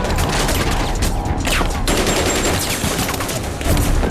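Rapid bursts of gunfire from a Korean drama's shootout in the Gwanghwamun area, loud and close, with automatic rattles and sharp cracks layered over a continuous roar of chaos.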